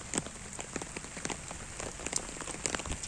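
Light rain falls outdoors among green trees, soft scattered drops ticking irregularly on nearby surfaces over a quiet, steady hiss.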